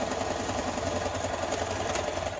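Sewing machine stitching a fabric scrunchie, running steadily and continuously at close range with a dense rapid mechanical hum and rattle, no voices.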